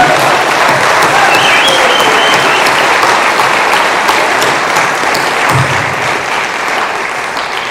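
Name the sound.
audience applause at hall of fame induction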